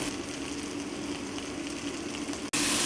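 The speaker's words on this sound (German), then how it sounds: "Und einmal wenden den Knurrhahn, dass die Haut schön knusprig wird." Red gurnard fillet frying skin-side in a pan, giving a steady close sizzle and crackle that holds evenly before a brief dropout and a louder burst of hiss at the end.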